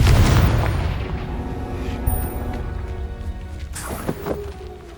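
A Confringo blasting spell explodes in the Hogwarts Legacy video game: a loud booming blast that rumbles and decays, followed by a few sharper pops and impacts.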